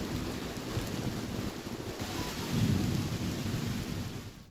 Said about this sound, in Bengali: আকাশ কালো করে মেঘের সঞ্চার হয় এদিন, আর তারপর বজ্রবিদ্যুৎ সহযোগে বৃষ্টি